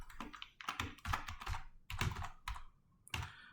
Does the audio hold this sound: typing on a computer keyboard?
yes